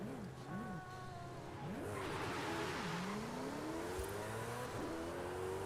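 A car in a racing video game drifts and accelerates, its engine whining up through rising revs with tire squeal, loud and continuous over a steady engine drone, with a faint background voice.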